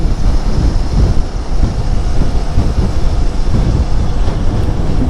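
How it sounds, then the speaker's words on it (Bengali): A train runs alongside a road near Bally Bridge in Kolkata, heard as a loud, continuous rumbling roar of rolling wagons close by, mixed with heavy wind noise from a moving motorbike, with no speech. "এই পাশ দিয়ে ট্রেন"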